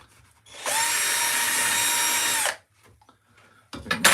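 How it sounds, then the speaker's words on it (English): A power screwdriver marking wood for a woodcarving job, one loud steady whine of about two seconds that stops abruptly, followed by quieter handling knocks. "I'll have to mark with the screwdriver because I haven't swapped the bit over."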